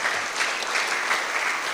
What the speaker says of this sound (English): I think our chairperson also deserves a clap.